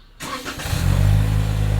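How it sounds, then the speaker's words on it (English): A 2022 Toyota Camry cold starts nearby: a brief starter whir, then the engine catches and flares into a steady, rumbling high idle, with no talk. "we got to do a cold start on the 2022 Toyota Camry"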